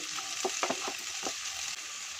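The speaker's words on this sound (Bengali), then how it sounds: "এবার দিয়ে দেব মটরশুঁটি টমেটো কেটে রাখা টমেটো দিয়ে ভালো করে নাড়িয়ে ভাজবো" Peas and tomatoes are stir-fried in a pan, with a continuous bright sizzle and several quick scraping stirs in the first second or so. The sizzle carries on steadily afterward, close and moderately loud, with no voices.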